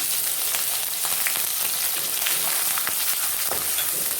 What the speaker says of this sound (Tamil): இது கொஞ்சம் லைட்டாக நல்லா பொரியணும்